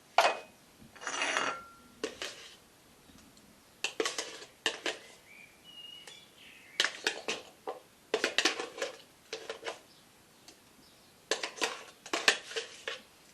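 Beetroot hummus is scraped from a bowl into a serving dish, giving close, quiet bursts of scraping and clinking utensil strokes in irregular clusters with pauses between them.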